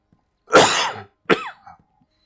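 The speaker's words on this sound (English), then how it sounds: "My coughing is not too immersion breaking" A single harsh cough followed by a shorter second cough and a faint throaty trailing sound, close and fairly loud, from a person playing a video game.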